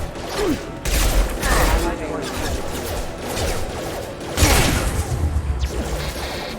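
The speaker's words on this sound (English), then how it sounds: "Don't you guys just love explosions?" Explosions in the Mass Effect 2 game, several crashing blasts and whooshing impacts in close succession amid a dense, noisy battle din, with a voice speaking at points.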